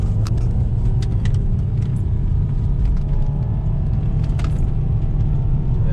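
JDM Subaru Legacy GT rounding a roundabout, a steady close engine and road rumble filling the cabin, with faint jingling like keys throughout.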